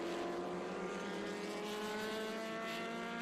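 Lola T298 Ford 2-litre race car at Sebring during an SVRA vintage race, its engine screaming at high revs in a loud, sustained, close pass with no voices.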